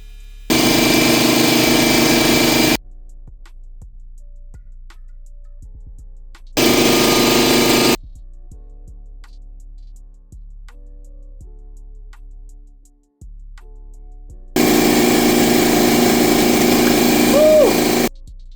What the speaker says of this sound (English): we're ready to start sanding it down